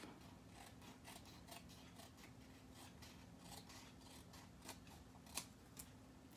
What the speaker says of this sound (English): cut the extra piece of paper all around before I glue it